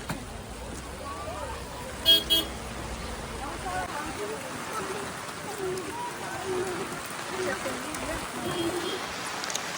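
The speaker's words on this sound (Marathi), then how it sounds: "आता पाऊस खूपच आहे" Steady heavy rain hisses and patters continuously, with a brief car horn toot early on and voices talking faintly underneath.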